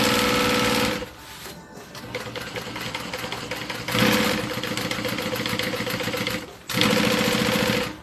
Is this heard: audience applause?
no